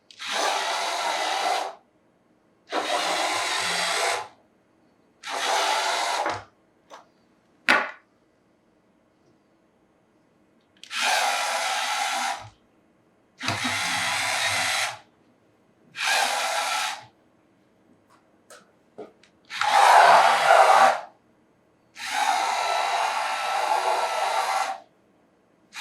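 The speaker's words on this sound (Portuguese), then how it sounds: "eu vou apertar aqui e vamos ver ele andar" Motors of a LEGO EV3 robot whir in repeated bursts of one to two seconds each, separated by short pauses, loud and close, with occasional small clicks between them.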